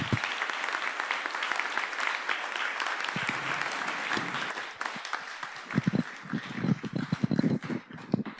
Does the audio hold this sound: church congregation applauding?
yes